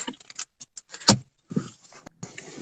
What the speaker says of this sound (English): I'm getting out the car.